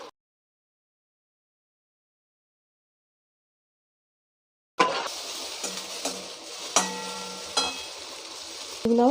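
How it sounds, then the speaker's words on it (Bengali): Soaked masoor lentils and vegetables are stirred and sautéed with spices in a pan for khichdi. Silence opens the clip, then a close sizzle starts with scraping stirs and light clinks. "মসুর ডালগুলো ভেজানো ছিল এগুলো দিয়ে দেবো এতে। এবারে সব সবজি দিয়ে ভালো করে একটু কষে নেব।"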